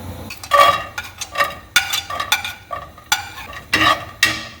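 Cashews and raisins frying in a pan for chicken biryani, with repeated short scraping stirs of a spoon against the pan in an uneven rhythm, close and moderately loud, with soft sizzling between strokes.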